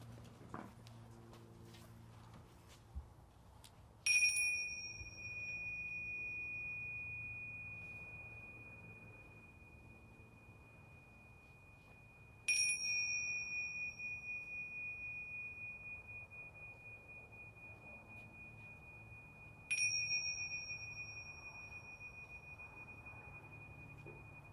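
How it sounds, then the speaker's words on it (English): Three struck bells ring out to mark the start of a church celebration, each a bright clear strike with a long sustained ring fading slowly, evenly spaced several seconds apart in a quiet room. "ring the bells that signal the start of our celebration"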